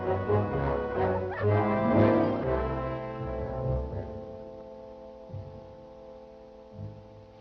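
Sled dogs on a rough trail bark and whimper in a brief, busy burst near the start, then fade to softer occasional yips and whines over a low hum.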